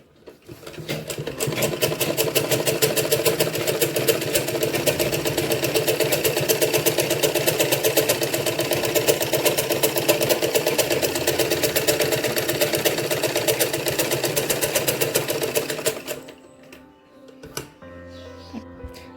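An electric sewing machine stitches a salwar in one long, fast, steady mechanical run of rapid clattering needle strokes that stops abruptly near the end, followed by a few light clicks and handling noises.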